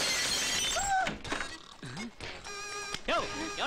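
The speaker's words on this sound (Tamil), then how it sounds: "எவனோ வீட்டு கண்ணாடி ஓடிச்சிட்டு இருக்கா" A sharp crash of a house window's glass breaking rings out amid shifting background noise and tonal sounds, followed by a brief clatter.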